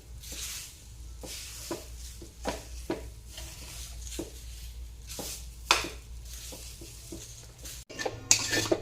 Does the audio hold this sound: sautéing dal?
yes